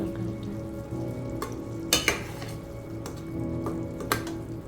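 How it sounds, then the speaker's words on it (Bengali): Yesterday's radish and potato curry reheating in a pan, a steady soft sizzle with occasional sharp clicks and clatters of a utensil against the pan, no talking. "আর এখানে গতকালকের তরকারি গরম করছি, মূলা দিয়ে আলু দিয়ে তরকারিটা।"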